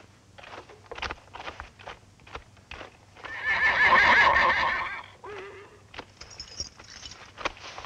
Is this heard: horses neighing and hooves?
yes